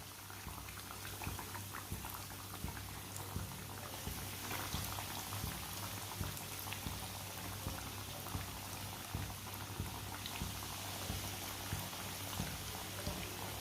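Sandwich pieces frying in hot oil on a low flame, a steady bubbling crackle with fine popping spatter that holds evenly throughout, faint and continuous with no talking.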